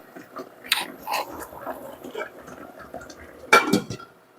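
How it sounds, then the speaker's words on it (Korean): A lid goes onto a pot of burdock rice with two pieces of kelp, with a couple of sharp metallic clinks and scrapes, the loudest near the end, amid quieter kitchen handling. "자, 이렇게 다시마 두 쪽 집어넣을게요. 뚜껑 덮어봅니다."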